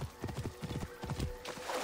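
Horse hooves clip-clopping in Assassin's Creed Origins, a quick, steady rhythm of close hoofbeats over a dull background rumble.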